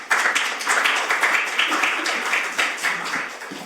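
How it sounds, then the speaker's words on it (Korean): Audience at a Korean shareholder-protection policy forum claps to welcome a lawyer presenter, a brisk, continuous patter of many hands at close range with no talking over it. "큰 박수 부탁드립니다."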